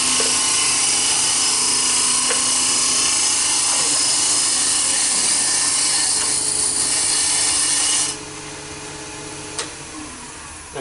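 A wood lathe spins a Japanese-style cup blank while a larger carbide cutter shaves the wood, making a steady, loud, high whirring hiss with scraping texture that drops abruptly to a quieter hum near the end.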